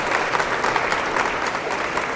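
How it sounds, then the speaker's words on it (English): Applause from an audience at a Philadelphia Marathon race weekend kickoff, greeting a hand cyclist entered in the half marathon; a steady, dense wash of clapping held at a constant level throughout. "Let's give a round of applause."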